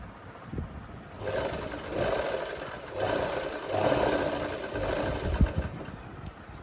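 Sewing machine stitching a shoulder seam on a garment, running in several steady bursts of mechanical whirring with short pauses between, close and moderately loud with no talking.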